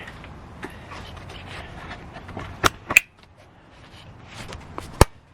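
Hood of a 1989 Dodge D100 truck opened, a low mechanical rustle followed by sharp metallic clunks and a latch click, then a final loud knock near the end.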